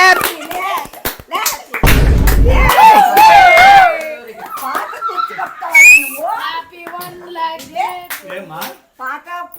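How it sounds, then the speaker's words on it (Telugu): Brief burst of hand clapping from a small group at a family gathering as a shawl is presented, lasting about a second amid lively chatter and children's voices before and after. "Claps claps."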